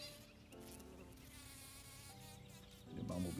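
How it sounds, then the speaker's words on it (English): Bumblebees buzz steadily and close by while working Tradescantia flowers, a continuous droning hum that swells louder near the end. "The bumblebees pollinating these guys."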